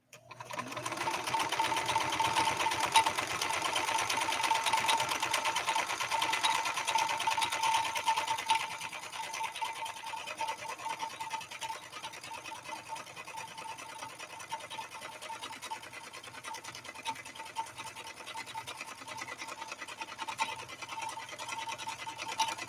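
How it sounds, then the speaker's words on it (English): A 1970s Kenmore 158.13520 sewing machine runs steadily, sewing a crescent stitch on cotton, with a fast, even mechanical whir up close that eases slightly in pace partway through. "Crescent stitch on cotton and then we'll do it on leather."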